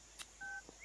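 A telephone number is dialed on a phone, with a few short, quiet keypad tones heard alone in quick succession.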